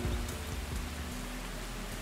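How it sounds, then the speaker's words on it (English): Steady rain pours down in the rally racing game DiRT Rally 2.0, a dense continuous hiss with a low rumble underneath, no voices. "Why is it raining?"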